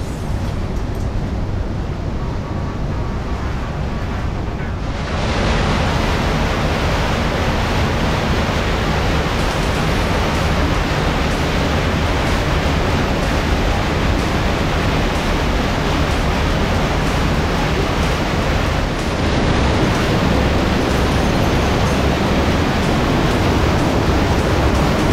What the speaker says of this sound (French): On entend un peu la cascade.